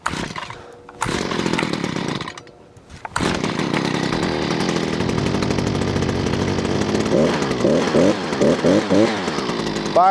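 Gas-powered steel BT45 earth drill fitted with a custom 3-inch bit, set up for frozen ground, roars at a loud steady engine drone that briefly drops out twice early on, then runs continuously with rising revving pulses near the end.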